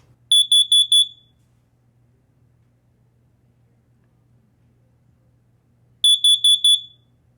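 A Universal CD9585 smoke alarm made in 2006 emits two loud, piercing bursts of four rapid high beeps, with about five seconds of near silence between them.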